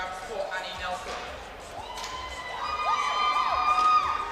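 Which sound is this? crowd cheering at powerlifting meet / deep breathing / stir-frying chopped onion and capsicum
crowd cheering at powerlifting meet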